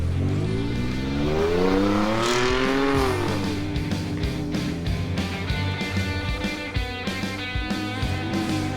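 A Ram SRT-10 or Ford F150 EcoBoost pickup truck accelerates hard, its engine note rising steeply through a gear before dropping and climbing again, loud and close with a rough rumbling exhaust throughout.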